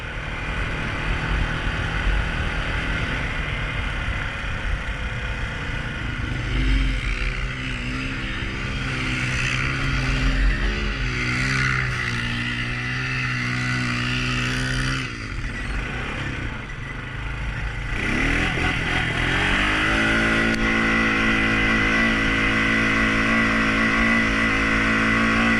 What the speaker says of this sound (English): Ah, donuts. Your four-wheel drive donuts.